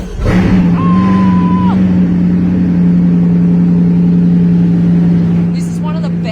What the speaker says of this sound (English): it's a good time to start the engine